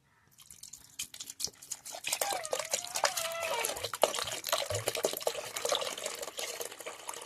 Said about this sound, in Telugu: వాటర్ అనేది యాడ్ చేయాలి.